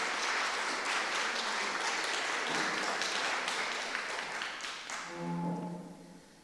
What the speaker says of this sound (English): So would you put your hands together and please give them all a round of applause